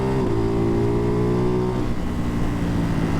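Single-cylinder Ducati Hypermotard 698 Mono fitted with a Termignoni exhaust, loud and close, holding a steady drone that climbs briefly and then drops in pitch as the revs fall, heard alone.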